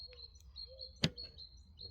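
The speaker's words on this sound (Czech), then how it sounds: "Slyším mi ptáčky zpívat" Faint, high-pitched bird chirps and whistles repeat in short phrases against quiet outdoor background, with one brief louder click midway.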